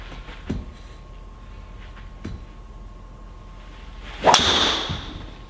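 Golf driver striking a ball off a raised tee during a Trackman session, one sharp crack near the end after a couple of faint taps, followed by a brief whoosh as the ball flies off.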